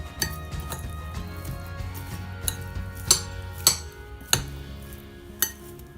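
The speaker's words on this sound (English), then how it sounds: "Now we're going to mix them all together." Spoon or utensil clinking against a bowl while Cornish pastry dough ingredients are mixed, with scattered light taps and a few sharper clinks near the end over a steady tonal background.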